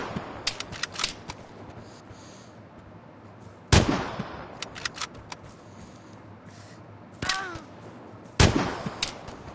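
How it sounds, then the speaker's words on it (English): Video game gunfire comes as scattered sharp shots and short bursts with quieter background noise between them, several louder cracks standing out. "I am shooting exactly where those bullets are coming from"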